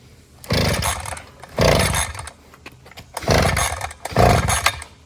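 A worn-out pocket bike's small two-stroke engine is pulled over repeatedly, giving four loud, close raspy bursts of cranking and sputtering that die away between attempts without settling into an idle.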